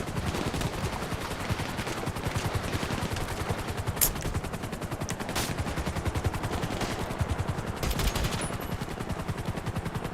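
Rapid automatic gunfire from an AP pistol in GTA Online rattles in dense, continuous bursts, close and loud, with a few sharper cracks standing out over the steady stream of shots.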